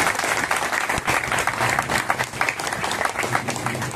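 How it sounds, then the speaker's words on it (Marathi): Audience at a housing complex redevelopment guidance camp applauds: dense, loud clapping from many hands, sustained and even throughout. "टाळ्या जोरदार व्हावा, जोरात टाळ्या।"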